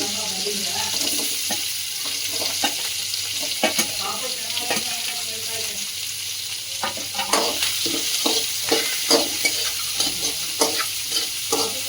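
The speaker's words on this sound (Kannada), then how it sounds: "ಈರುಳ್ಳಿ ಒಂದು 3 ರಿಂದ 4 ನಿಮಿಷ ಚೆನ್ನಾಗಿ ಫ್ರೈ ಆಗಲು ಬಿಡಿ." Four onions fry in a pan with a steady, close sizzle, while a spoon scrapes and stirs in irregular clatters throughout.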